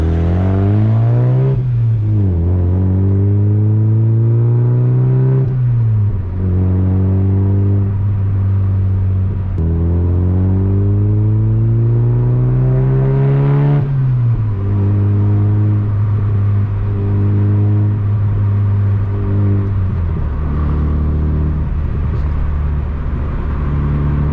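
A Mazda MX-5 NB drives along a dark unlit UK road, its engine revving up and dropping back repeatedly through the gears, a loud steady rumble heard from inside the car with no talk.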